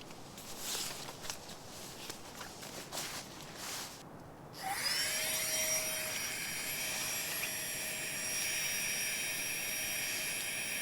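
A small electric mini air pump for a bivy tent whirs on abruptly partway through and keeps running with a steady high-pitched drone after some rustling handling noises.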